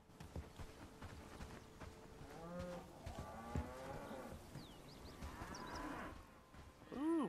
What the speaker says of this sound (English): Another cow out here.